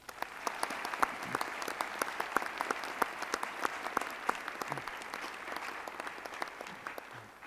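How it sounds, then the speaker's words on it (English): Scattered, fairly faint applause from an audience at a university honors convocation, with distinct individual claps ringing out over a soft crowd wash for several seconds. "a round of applause"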